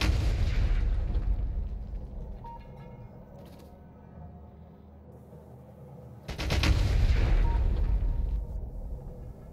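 Turrets in Factorio fire standard ammunition as dense bursts of booming gunfire, loud at first, fading to a low rumble, then surging back in a heavy volley, with no voices.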